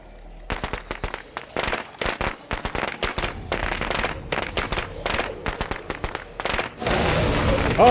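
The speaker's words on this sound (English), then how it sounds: "Let's get another firecracker in there just to re-rally him." Firecrackers burst in State of Decay 2, a zombie survival game: a long, rapid chain of sharp cracking pops going off close by in irregular clusters, ending in a louder sustained roar.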